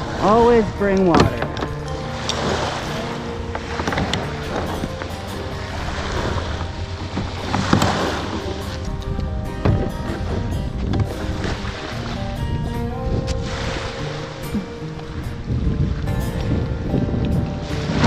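A boat runs steadily across open water among the San Juan Islands, with a continuous roar of hull, waves and strong wind buffeting the microphone throughout.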